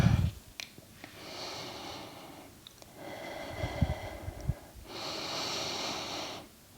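Slow, deep breaths during a pregnancy yoga session: a few long drawn inhales and exhales, close and soft, with faint nasal airiness and no talking.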